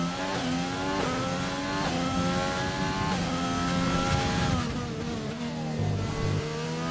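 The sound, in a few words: race car engine revving in a racing video game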